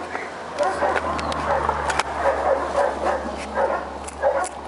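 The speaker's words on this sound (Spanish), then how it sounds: "Los perros que se empiezan a emocionar con los saltos." Several dogs bark and yip excitedly, stirred up by skateboard jumps, in repeated bursts close by, with voices talking over them.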